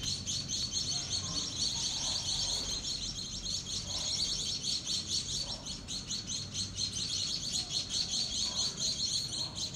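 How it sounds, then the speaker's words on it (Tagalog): Many birds chirp and tweet continuously in a busy chorus among many trees, fairly close, over a low steady background rumble. "Madami talaga ibon dito kasi madaming puno rito."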